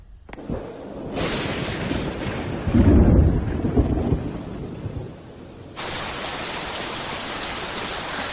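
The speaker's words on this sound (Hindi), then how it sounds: "कैसा मौसम है, बीच में बारिश कहाँ से आ गई?" A rumble of thunder rolls through steady rainfall, swelling loud in the middle before the rain settles into a constant, even hiss.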